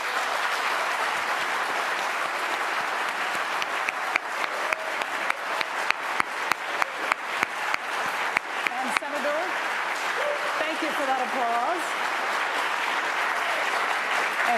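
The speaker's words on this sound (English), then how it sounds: "They've agreed to hold their applause until the end of the debate, except for now as we meet the candidates." An audience in a hall applauds to welcome the candidates at a televised Washington US Senate debate, with sustained clapping that swells with sharper individual claps while a speaker talks over it.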